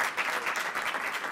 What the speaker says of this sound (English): You all clap it up for Emerald Green.